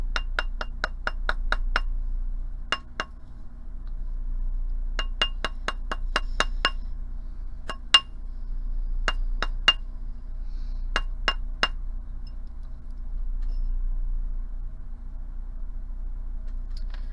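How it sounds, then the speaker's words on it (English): Rawhide mallet gently tapping a braided wire ring on a metal mandrel to round it out, sounding as clusters of sharp, bright clinking taps in quick rapid runs separated by short pauses, close and alone without talk. "I'm going to take my rawhide mallet and I'm just going to gently tap it on my mandrel to round it out"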